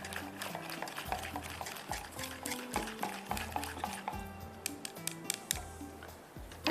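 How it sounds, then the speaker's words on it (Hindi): Chicken shahi handi mixture being stirred in a pot, with a spoon knocking and scraping against the pan in a steady rhythm, close and moderately loud, without any talking. "अब इसको हम हल्का सा मिक्स करते हैं ताकि अच्छी तरह से मिक्स हो जाए।"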